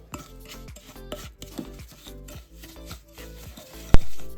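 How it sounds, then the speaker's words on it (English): Room-temperature butter and sugar are worked together in a bowl for a galette des rois, making steady rhythmic scraping and rubbing strokes close by, with one sharp knock near the end. "Next, we're just going to mix that together."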